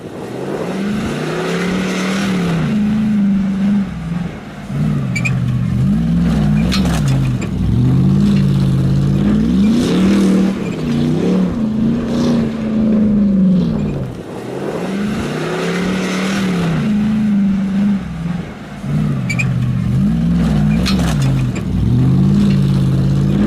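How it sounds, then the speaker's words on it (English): A Hummer H2 SUV's V8 engine revs hard and continuously through a freestyle off-road drive, its loud, close roar rising and falling in repeated surges without a break. "And now, as a bonus, a freestyle drive from the Hummer."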